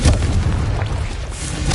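Casting the Confringo explosive spell in Hogwarts Legacy sets off a deep, booming blast that rumbles on steadily at close range.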